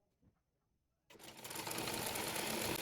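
After a second of near silence, a sewing machine starts up stitching fabric panels of a round garment together, quickly rising to a steady, close, whirring run that continues to the end.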